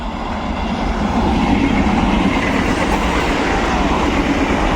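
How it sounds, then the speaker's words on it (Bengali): A Ranaghat EMU passenger train pulls into Murshidabad railway station, its loud, close rumble and wheel clatter steady throughout with no voices. "রানাঘাট ইউমিউ প্যাসেঞ্জার একদম ঢুকছে মুর্শিদাবাদ রেল স্টেশন"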